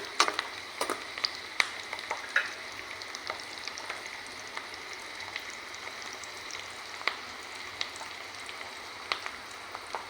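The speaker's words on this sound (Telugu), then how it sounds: "ఇలా ఉల్లిపాయ, పచ్చిమిర్చి ముక్కలు వేసేసుకొని వేయించుకోవాలి" Chopped onions and green chillies fry in a pan, giving a steady close crackle with scattered sharp pops and light spatters, without any talking.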